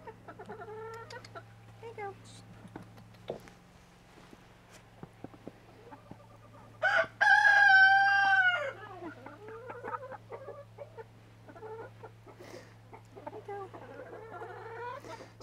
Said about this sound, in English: We've got a hen that's going through a full molt right now, and she is not happy.